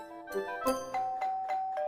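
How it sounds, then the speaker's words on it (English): A doorbell chimes several times in a quick, playful rhythm, bright ringing tones following one another. "The doorbell rang"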